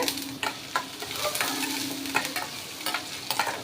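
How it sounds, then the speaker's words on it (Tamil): Chana dal, chopped ginger and dried and green chillies fry in hot oil, a bright continuous crackling sizzle with frequent sharp pops and stirring scrapes close by. "நல்லா பொரிய விடுங்க"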